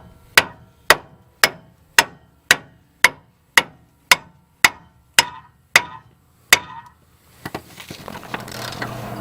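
A hammer drives a torsion bar back into a Mazda B2200 pickup with about a dozen sharp, evenly spaced metallic blows. Scraping and shuffling noises follow the blows.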